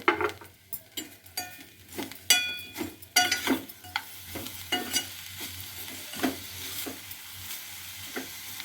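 Coconut and jaggery filling stirred in a pan with a utensil, making repeated scraping and clacking strokes over a soft sizzle, loud at first and then settling into a steadier rhythm, with no voices.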